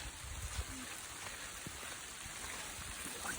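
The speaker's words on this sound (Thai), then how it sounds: "ไม่รู้เราจะหลบฝนตรงไหนครับเพราะฝนแรงขึ้นทุกครั้งแล้ว" Heavy, intensifying rain on a countryside walk in England hisses across the whole clip, with scattered drips and patters on surfaces nearby and no voices.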